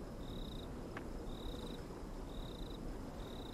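Repeated short, high insect-like chirps in the video game Lies of P, four evenly spaced trills over a steady ambient hum with one sharp click between them.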